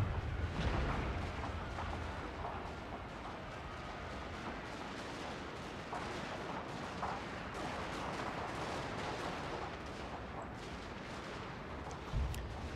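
Cannons fire shrapnel rounds in a Shogun 2: Fall of the Samurai battle, giving a steady, dense roar of distant booms and crackling gunfire that runs throughout, with a sharper blast near the end.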